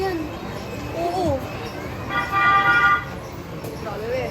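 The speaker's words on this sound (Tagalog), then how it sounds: "Grabe, may busina pa." A vehicle horn toots in short bursts and then a sustained honk amid street noise, with people talking over the traffic.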